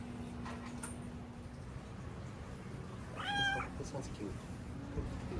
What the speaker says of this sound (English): Hawaii has a lot of cats, and we discovered a cat sanctuary there as we were returning to town from the lookout.